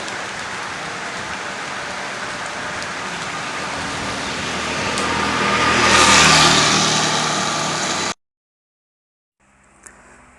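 Heavy rain pours steadily outdoors along a quiet road leading to Wijarapayung beach, a dense hiss that swells louder midway, then cuts off abruptly into near silence with a faint return at the end.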